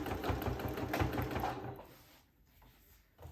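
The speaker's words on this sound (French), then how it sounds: "Hop, donc je tends bien et je fais ma surpiqûre." Sewing machine topstitching along the zip of a patchwork fabric pouch, a close, rapid mechanical whirr of stitching that runs for about a second and a half, then stops and leaves quieter handling noise.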